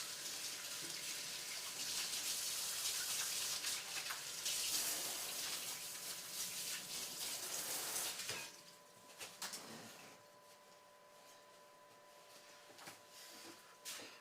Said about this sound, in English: Wash your hands, lots of soap.